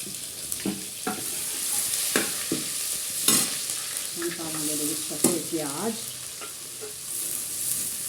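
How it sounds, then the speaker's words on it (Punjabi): Ginger and green chillies fry in oil seasoned with garlic and asafoetida, giving a steady sizzle under repeated spoon scrapes and clatters against the pan, fairly close and without speech. "ਅਦਰਕ ਹਰੀਆਂ ਮਿਰਚਾਂ ਪਾ ਦਿਓ"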